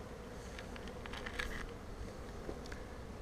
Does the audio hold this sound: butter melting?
no